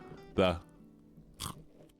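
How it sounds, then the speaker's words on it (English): Two crisp crunches from biting into a homemade snack, one loud and one softer about a second later, close to the microphone and otherwise quiet. "hear the crunch of that?"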